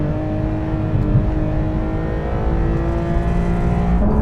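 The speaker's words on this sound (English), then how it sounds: "And then there's the engine. Can you just, like, just listen?" A Porsche 911 GT3 RS engine, a 520-horsepower car, revs with a steady, loud, throaty drone, heard from nearby without anyone talking.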